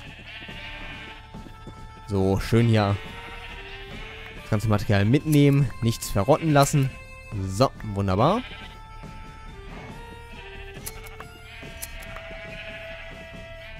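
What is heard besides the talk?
sheep bleating in the video game Minecraft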